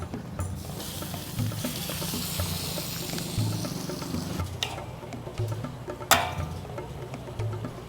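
Horse meat, marinated in salt and vinegar, sizzles steadily as it sautés in a hot pan, with occasional stirring scrapes, close and continuous, with no voices.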